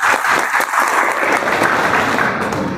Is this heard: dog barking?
no